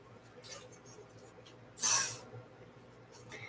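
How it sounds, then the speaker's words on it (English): Short burst of silicone spray from an aerosol can into small paint cups, a single close hiss lasting under a second amid faint room noise. "Let me spray these cups real quick so it'll sit."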